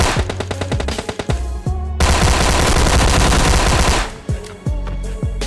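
A Thompson submachine gun fires in PUBG Mobile Lite, loud and close, in rapid bursts with a sustained stream of shots in the middle and scattered single reports around it.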